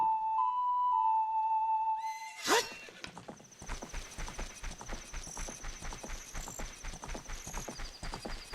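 Epona the horse from Zelda: Ocarina of Time gallops in a steady, rapid clip-clop of hooves that starts after a short musical chime and whoosh, running on for several seconds at close range with no talking over it.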